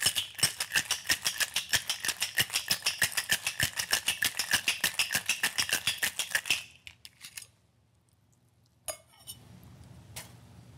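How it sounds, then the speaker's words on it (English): Cocktail shaker packed with ice and a rum cocktail with lime juice, shaken hard in a fast, steady rattle of ice for about six seconds, then stopping, followed by a couple of faint clinks. "Fill your cocktail shaker with ice. And give it a gentle shake."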